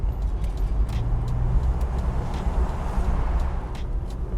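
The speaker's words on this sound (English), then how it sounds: "There's a lot of traffic today," Road traffic rolling past a parked 1992 Ford Mustang 7-Up Edition, a steady low rumble of passing vehicles with faint intermittent clinks, moderately loud and continuous.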